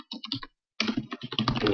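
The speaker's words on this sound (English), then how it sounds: "so what you do is you just start typing" Fingers type on a computer keyboard in close, crisp clattering bursts, with a short pause before a longer, denser run of keystrokes.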